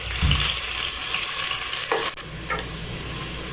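Onions frying in a pan toward a light golden colour, a loud, close, steady sizzle broken by a short stirring scrape near the middle, with no talking.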